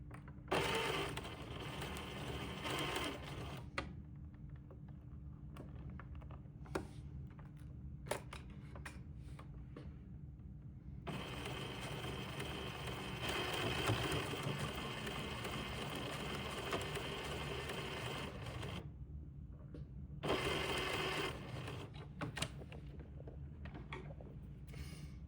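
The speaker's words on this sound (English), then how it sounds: "I'm going to sew the first pass of this French seam" A sewing machine running the first pass of a French seam, bursts of steady mechanical hum broken by a few short pauses and clicks, close and fairly quiet with no speech.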